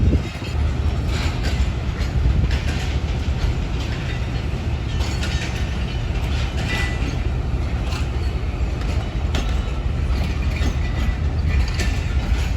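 The Allama Iqbal Express passenger train runs on its rails between Karachi and Sialkot, with a continuous close rumble, rattling carriages and soft clickety-clack from the wheels. No one speaks.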